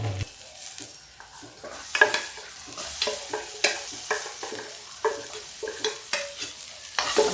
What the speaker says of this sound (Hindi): अब इसको थोड़ा सा आंच तेज कर लेते हैं और इसको भून देते हैं।